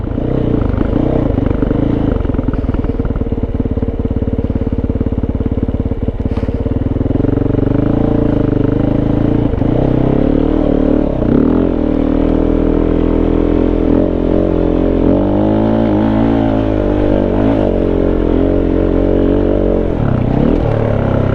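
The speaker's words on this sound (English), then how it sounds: "Hear the exhaust going pretty good." A Kove 450 off-road motorcycle fitted with a Dominator exhaust and off-road airbox roars loudly and continuously while riding off-road, its engine pitch surging and falling with throttle changes and some mechanical clatter.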